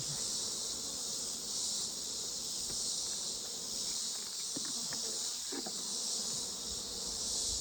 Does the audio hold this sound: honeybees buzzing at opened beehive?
yes